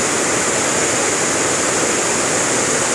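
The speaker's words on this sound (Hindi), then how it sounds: "काफ़ी सुंदर नज़ारा आप झरने का देख रहे हैं, जो कि भंवर माता के यहाँ पर बना हुआ है।" Waterfall at the Bhanwar Mata temple after rain, a loud, constant rushing roar of falling water filling the whole clip without pause.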